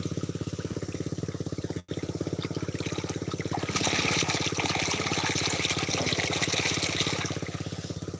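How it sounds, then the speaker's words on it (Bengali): Irrigation water gushes onto a chili field under the steady, rhythmic chugging of a nearby motor, with the flow growing louder and brighter partway through. "মরিচ খেতে পানি দিচ্ছি"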